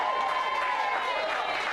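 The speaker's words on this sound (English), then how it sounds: "everybody can just give Lola a wee clap" Wedding guests at a reception clapping for Lola the dog, a dense, steady wash of distant hands that sounds more like a sustained murmur than distinct claps, with a faint voice-like tone running through it.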